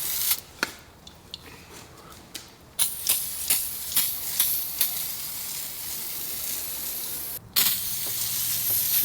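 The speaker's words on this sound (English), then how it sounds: "And then I'll come under here and I'll spray some more." A steady hiss of water spraying from a hose runs throughout, with occasional sharp knocks and clatters as the spray hits surfaces.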